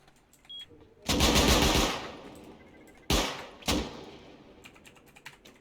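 An automated turret in the Rust video game fires loud, close bursts: one long rattling burst, then two shorter ones, over quiet background clicks.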